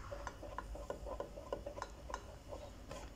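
Oil and water are stirred together for Cameroonian sanga, a quiet, close series of quick rhythmic clicks and taps of a spoon against the pot with a soft wet swish underneath.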